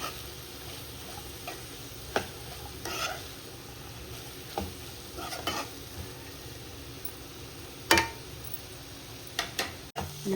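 Cabbage and chana dal curry sizzling in a pan, with a spoon scraping and tapping against the metal in irregular strokes, steady frying hiss underneath, close and moderately loud.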